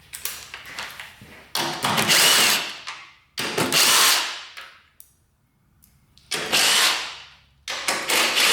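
A power drill takes off the plastic body panels of a big bore two-stroke quad bike, running in several loud, close bursts of a few seconds each with short pauses between them.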